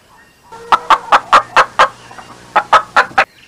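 Hens cluck in a quick run of about a dozen sharp, close calls, split into two bursts with a short pause between them.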